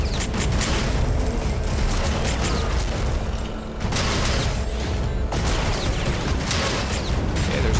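Shotgun fire in the video game ShockRods, with loud, dense, repeated blasts and mechanical clatter that fill the whole stretch without a break.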